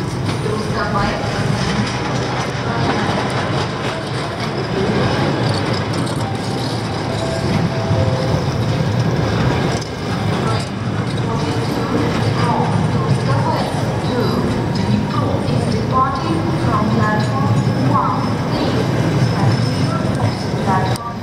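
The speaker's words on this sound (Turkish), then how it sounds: "Gençler tren geliyor ama baya metro gibi bir şey geliyor ha." A train arrives at a station in Ukraine, between Lviv and Kyiv, with a steady heavy rumble and rattling, people chatting over it throughout.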